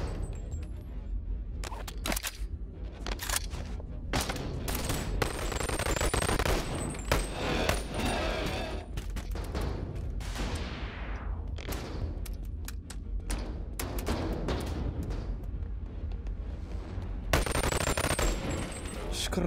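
Rapid bursts of machine gun fire in the VR shooter Boneworks come in dense volleys mixed with thuds and impacts, loud and continuous across the stretch with brief pauses.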